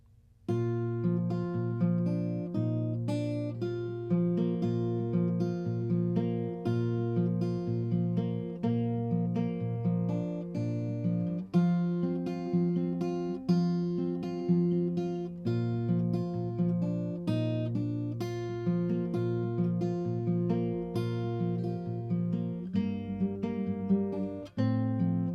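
Acoustic guitar fingerpicking the pattern for a worship song, plucked notes and paired strings ringing in a steady, flowing arpeggiated rhythm, close and clear for about twenty-five seconds with no talking.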